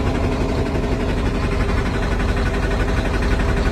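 A 2009 Kenworth T800 truck's heavy diesel engine idles steadily with a deep, even rumble and low knocking throb, close by and continuous.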